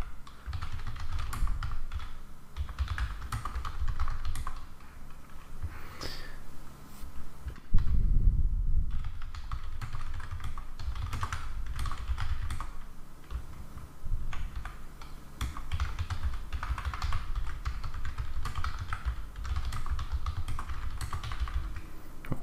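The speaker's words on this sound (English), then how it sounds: "I'm just typing something" Fingers type on a computer keyboard in fairly rapid, uneven bursts of clicking keys, close and steady over about twenty seconds, with a short pause and a soft thump midway, no speech.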